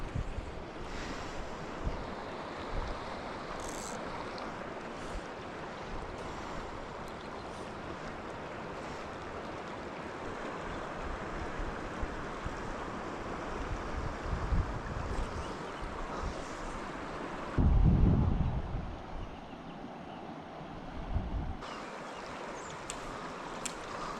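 A southwestern Colorado river runs steadily outdoors as a broad, even rush of water with some wind buffeting the microphone, including a brief louder gust near the end.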